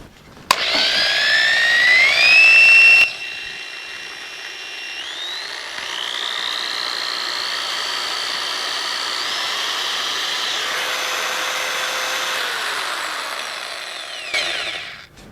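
An electric drill whines loudly, revving up in pitch, dipping briefly, then holding a steady high motor whir for several seconds before stopping.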